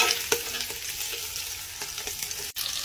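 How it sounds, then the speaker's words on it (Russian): Meat fries in a pan as its liquid cooks off. A steady close sizzle is broken by a few stirring scrapes and one brief dropout near the end, with no talking. "Она должна уйти, и мясо начнет обжариваться"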